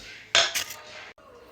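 A utensil clinks and scrapes against a bowl while stirring a garlic-powder marinade, with one sharp knock followed by a brief rattle, close and fairly loud.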